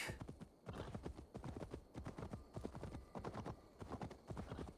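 A horse's hooves gallop in the Norse setting of the video game Assassin's Creed Valhalla, a rapid, continuous clip-clop of close, loud hoofbeats in rolling triplet rhythm with no talking over it.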